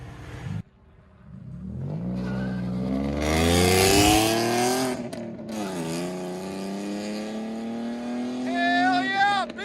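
A Ford Mustang with a 3.7L V6 and a muffler-delete or straight-pipe exhaust revs hard, its loud raspy note climbing, peaking, then settling and rising again. It sounds close, with excited voices partly over the engine.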